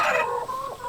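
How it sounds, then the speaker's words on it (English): Delaware hens in a layer coop with nesting boxes, a broody hen letting out a close, drawn-out clucking call that wavers in pitch over about a second. "We got a few broody hens right now, mainly the Delawares."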